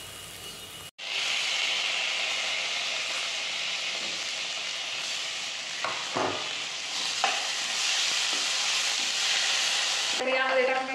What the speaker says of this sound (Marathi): आता लाल तिखट वगैरे सर्व भाजलेलं आहे तेलामध्ये.